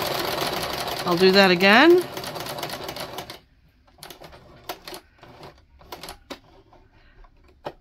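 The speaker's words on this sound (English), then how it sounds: "lower the presser foot, and continue serging." A serger runs in a fast mechanical whir while stitching the seams of 18th-century fall-front trousers. A short loud burst comes early, then a person talks over faint handling clicks and taps.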